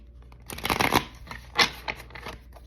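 A deck of cards shuffled up close: a fast riffling burst followed by a second shorter riffle and a few soft card taps, crisp and isolated against a quiet room.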